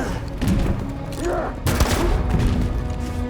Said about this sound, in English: Yep, we're shooting people, okay.